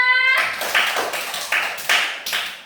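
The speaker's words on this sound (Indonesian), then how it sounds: "Beri tepuk tangan untuk Mia." A classroom of students claps for a classmate, a short burst of loose hand claps with a few distinct sharp peaks, fairly close and moderately loud, after a brief tonal sound at the start.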